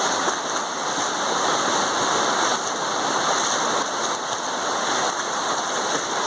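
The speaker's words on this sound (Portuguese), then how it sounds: "Essa água aqui que passa no Vale do Sol, hein?" Floodwater rushes through a stream under a bridge during a storm, a loud, continuous broadband roar of churning water with steady spray and no pauses, heard close and alone.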